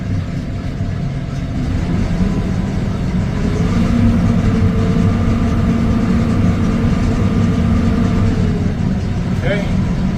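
Threshing mechanism of a combine harvester spinning, a loud, steady mechanical drone and rumble running throughout, with a voice speaking briefly over it.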